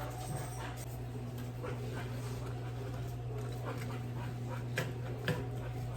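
Dogs pant and whimper around a home kitchen while onions cook in warm oil, with faint quick breaths and soft whines over a steady low hum, plus occasional sharp clicks and taps.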